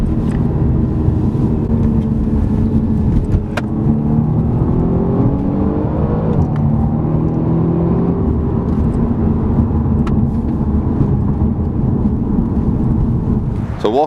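A BMW M135i accelerates hard under throttle, its engine a loud, continuous roar whose pitch climbs steadily through the revs, with a brief dip like a gear change, over steady road and wind rumble.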